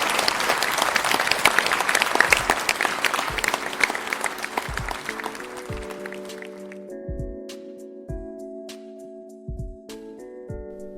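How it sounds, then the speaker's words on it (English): A live stage audience at a podcast recording claps loudly and densely for several seconds, then the applause thins out and fades under a sustained tonal musical outro. "So a final round of applause."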